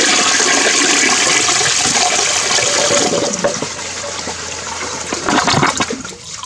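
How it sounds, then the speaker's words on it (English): A newly installed toilet flushes with golf balls in the bowl, the rushing water loud and close at first, then falling away into gurgling and a refill trickle. "Here is flush 2 for trial number 3."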